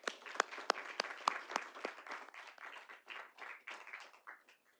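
An audience at a Little Rock city board of directors meeting applauds, a faint burst of scattered clapping with a few sharp, louder claps early on that thins out over about five seconds.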